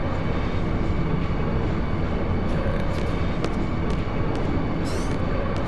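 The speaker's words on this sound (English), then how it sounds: "Is the only train bound from Deling City anyway." A train rumbles steadily through the Final Fantasy 8 game world, with a dense, continuous low roar and a few brief metallic clanks and hisses near the end, with no voices.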